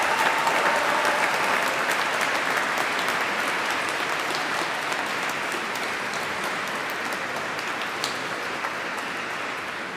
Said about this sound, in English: give a big round of applause to show your appreciation to the staff of the university